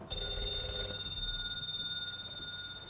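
A telephone bell in a 1938 film rings continuously for about three seconds, a bright, rapid metallic trill that is loud at first and then slowly fades, heard alone without voices.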